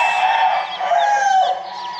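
Gamefowl roosters crow at a game farm, drawn-out calls overlapping at moderate distance against a steady outdoor background.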